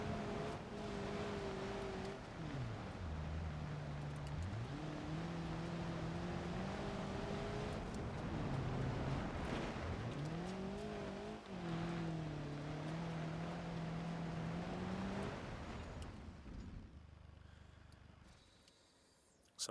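A BeamNG.Drive game car's engine drones steadily as it drives over rocks, the pitch rising and falling as the throttle changes, then fading toward the end with no talk.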